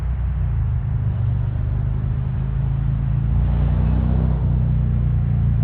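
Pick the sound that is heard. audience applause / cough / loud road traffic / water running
loud road traffic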